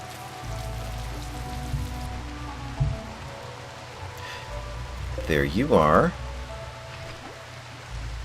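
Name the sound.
rain in the video game RimWorld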